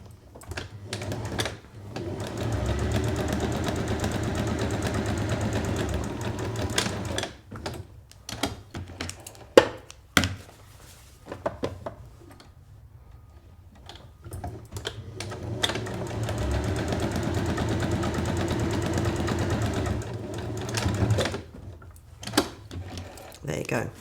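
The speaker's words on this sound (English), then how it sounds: "I'm only sewing this on the darker side of the fabric this time" A sewing machine stitches fabric for a drawstring bag in two long whirring runs separated by a pause of clicks and handling, the motor's steady hum loud and near.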